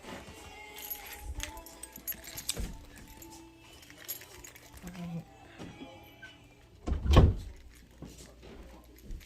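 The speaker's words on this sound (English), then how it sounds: "Hold on, let me get my keys." Keys jangle in a bright metallic burst near the end, after scattered handling clatter and thumps like a door or cupboard, with a voice speaking throughout.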